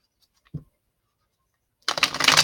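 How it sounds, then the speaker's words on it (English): Oracle cards get a short, close riffle shuffle, a soft tap and then a burst of dense papery flutter near the end, with no speech. "So we're going to shuffle the wisdom of the oracle card and do the same thing."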